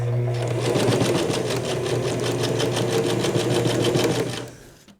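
A sewing machine running fast and steady while stitching fabric for a pair of pants, a close, loud rapid mechanical chatter that holds for several seconds before winding down and stopping.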